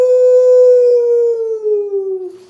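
A storyteller's voice imitates a coyote's howl, one long, loud, sustained wail that slowly sinks in pitch over about two seconds, close and alone.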